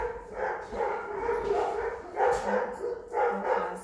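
Several dogs bark in repeated bursts at horses walking around nearby, the barking fairly loud and steady across a few seconds, with rustling in between.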